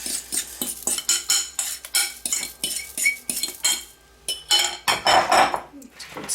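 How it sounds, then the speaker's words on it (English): A spoon stirring banana into a tea bread mixture in a bowl, with quick repeated scraping clinks of metal on the dish in an uneven rhythm, close and fairly loud, and no one speaking. "Good stir together."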